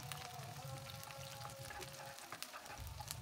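Five shallots frying in oil in a pan for an Indonesian meat dish, giving a steady, close crackling sizzle with scattered spits and pops throughout, without talk.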